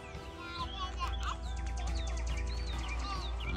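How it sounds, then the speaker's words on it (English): Several birds chirp and whistle in quick, overlapping calls over a low steady hum outdoors at Cherokee Lake by the dam. "Yeah, there's a lot of birds out here."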